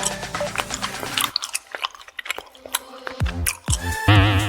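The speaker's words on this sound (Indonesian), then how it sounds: "Suara ngunyahnya nyebelin banget." Close, loud chewing of a green apple gummy candy: repeated wet crunching and biting bursts in an uneven rhythm, with brief quieter gaps between them.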